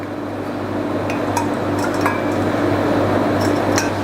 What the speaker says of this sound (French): je vais donc rajouter le jus de mes citrons dans mon eau frémissante au thym